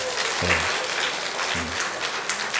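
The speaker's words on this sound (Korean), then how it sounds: "박수해 주시기 바랍니다" Dense, sustained applause fills a church sanctuary during a Sunday morning Methodist service, a crowd clapping steadily with a faint low voice or tone surfacing twice beneath it.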